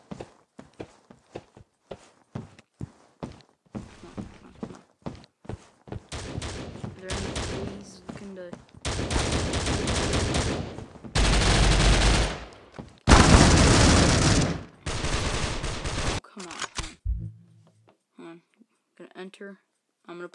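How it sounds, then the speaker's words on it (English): Rapid bursts of AK assault rifle fire in the mobile shooter Critical Ops, with sustained sprays and quick clicks under a player talking over the game. "Alright, come on, assault rifle. AK."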